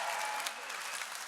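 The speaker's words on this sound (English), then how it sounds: "If you could just give another round of applause" Steady applause from a conference audience at a tech summit, dense and even clapping filling the short moment without pause.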